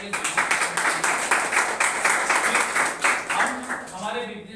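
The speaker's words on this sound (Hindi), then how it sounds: "तो जोरदार में चौके पर जोरदार तालियां।" Audience applause at a business event, steady rhythmic clapping from a crowd filling the room, fairly loud and continuous before fading at the end.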